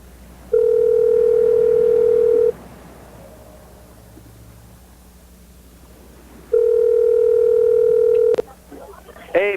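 Two long, loud, steady telephone ringback or dial tones sound during call attempts, separated by a quiet gap of line noise, with a brief click and faint voice at the end.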